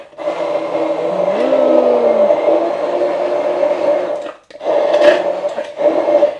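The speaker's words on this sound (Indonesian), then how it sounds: "Nah, di blender begini aja." A kitchen blender whirs loudly and steadily while grinding ingredients for a young jackfruit, tempeh and petai vegetable stew. It breaks off briefly, then starts again in short bursts. No one speaks.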